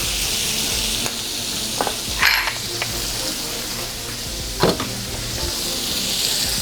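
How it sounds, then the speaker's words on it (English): Jumbo shrimp sizzle steadily in a hot pan, a close, continuous hiss broken by a few brief clinks and taps of a utensil against the cookware. "So we're gonna cook these about each side, maybe 3 to 5 minutes, maybe like 3 minutes on each side."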